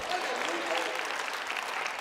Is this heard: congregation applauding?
yes